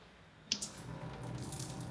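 A tap in a newly moved-into house turned on, a small click followed by a steady soft rush of running water, faint and close, no talking.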